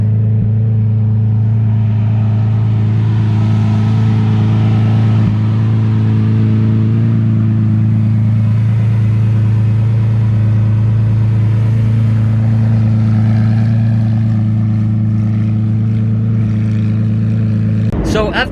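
A matte black Lamborghini Aventador engine drones loud and close in a steady, deep rumble for a long stretch, with a sharp burst right at the end.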